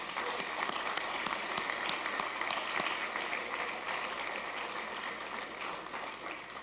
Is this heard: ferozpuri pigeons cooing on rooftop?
no